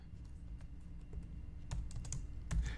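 Steady typing of code on a computer keyboard, with rapid close keystrokes running continuously and growing a little louder toward the end, no voices.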